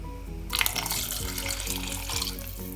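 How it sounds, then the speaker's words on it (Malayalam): Rinse water from a mixer jar poured into a simmering Kerala-style modha fish curry: a steady splashing pour starting after a quiet moment, continuous and close, with no talk. "അങ്ങനെ മിക്സി കഴുകിയ വെള്ളം കൂടി നമുക്കിതിലേക്ക് ചേർക്കാം"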